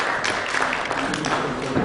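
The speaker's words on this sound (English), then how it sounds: "A round of applause for Mr." An audience at a banking and finance conference applauds, a short burst of steady clapping heard close and continuous.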